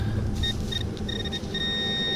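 A metal detector sweeps over the ground at the Talladega racetrack campground and sounds a series of short high electronic beeps in uneven bursts, with a low background hum and no talking.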